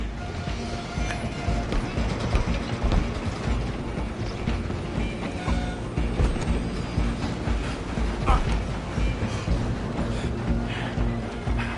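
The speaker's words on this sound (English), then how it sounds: "I'm gonna ride ahead and stop the train." A train running on rails in a video game, a dense, continuous mechanical rumble with rattling and clanking that stays loud and close the whole time, with no gaps or pauses.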